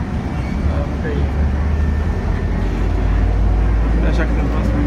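Inside a moving city bus in Guangzhou, China, a steady low engine and road rumble drones throughout with faint cabin rattles and no clear speech.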